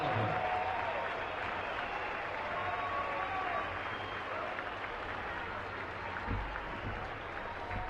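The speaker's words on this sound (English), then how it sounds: "they're giving Molly a standing ovation" A small crowd at a 1996 Minnesota Twins baseball game gives Paul Molitor a standing ovation as he nears 3,000 hits, with sustained applause and cheering heard at a distance and a broadcaster talking over it.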